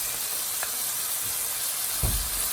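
Paste and chopped tomatoes frying in a pan for a Goan fish curry, a steady soft hiss of sizzling with a few clinks and a louder scrape near the end, no talking.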